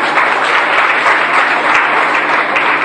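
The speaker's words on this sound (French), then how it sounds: "est-ce qu'on peut acclamer pour nos sœurs?" A church congregation at a Sunday service applauds for the sisters, steady loud clapping from many hands filling the room throughout.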